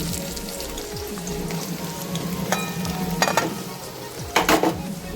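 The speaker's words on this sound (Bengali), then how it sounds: "গরম তেলে পেঁয়াজগুলো দিয়ে খুব ভালো মতো ভেজে নিচ্ছি।" Onions frying in hot oil in a wok, heating for a mutton curry with potatoes: a steady close sizzle and crackle, with a few sharper clinks and scrapes of stirring near the end.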